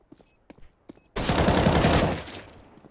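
Gunfire from the Counter-Strike video game on the Mirage map: a few faint clicks and taps lead into a sudden loud burst of rapid shots that rings out for about a second before dying away.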